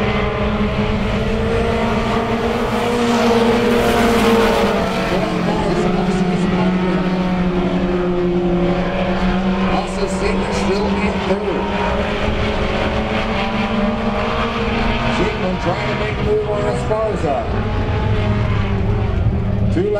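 Hornet class race cars roar around the 81 Speedway oval, a loud continuous engine drone with pitch swells as the cars pass, while an announcer calls the race over the top.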